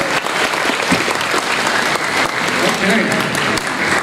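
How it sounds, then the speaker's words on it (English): Audience applause at a winter music festival concert for Mr. Badillo, a dense, steady wash of many hands clapping throughout, with voices mixed into the crowd noise. "One more round of applause, please, for Mr."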